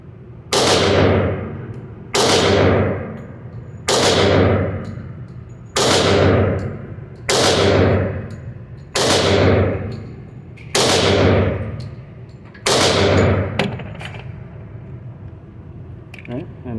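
Eight loud gunshots from a Girsan Untouchable 1911 pistol ring out at a steady pace about two seconds apart, each sharp crack trailing into a brief echo, with a few faint clicks after the last.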